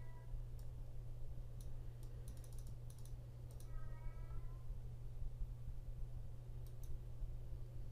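An indoor house cat gives a short, rising meow partway through, over a steady low hum and scattered computer keyboard typing and clicks.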